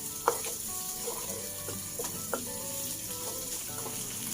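Flat kue teow noodles stir-fried in a hot wok, a steady continuous sizzle with occasional sharp scrapes and clanks of the spatula, close and fairly loud, no talking.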